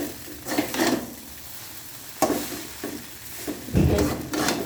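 Egg chow mein being stirred in a frying pan, with scraping and shuffling strokes in uneven bursts over a soft sizzle, close and moderately loud.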